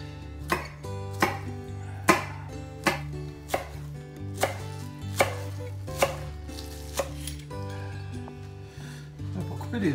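A knife chops eggs on a cutting board in a kitchen, giving a steady series of about a dozen sharp, close knocks roughly every half second, with a little faint background noise.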